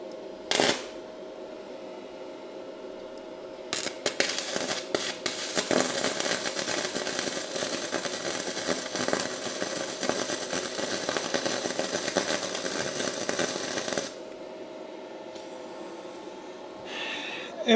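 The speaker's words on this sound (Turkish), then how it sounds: "şimdi yaklaştırıyorum ve kaynak gözlüğümle bakarak kaynak yapmaya çalışıyorum" A Daniu Mini MIG 200 IGBT welder MIG-welding two pieces of metal: brief crackles and taps, then a steady, dense, sizzling crackle for about ten seconds before it stops, close and loud.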